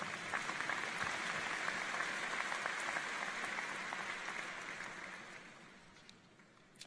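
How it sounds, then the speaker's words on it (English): Applause from a large crowd at a George Mason University spring commencement ceremony, a broad, steady wash of clapping heard from a distance that slowly fades away toward the end. "And finally, a round of applause"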